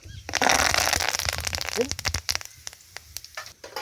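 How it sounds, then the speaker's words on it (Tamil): Cinnamon and curry leaves sizzle and crackle in hot oil in a pan for Kerala-style chicken fry, with loud dense frying at first that thins into scattered pops, under a voice talking. "எண்ணெய் காஞ்சிருச்சு பட்டை சேர்த்துக்கிறேன்"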